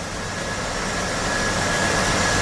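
A '67 Chevy C10 truck engine, freshly swapped and idling rough with a suspected vacuum leak, rises in a steady broadband roar as the revs climb, loud and continuous with no voices.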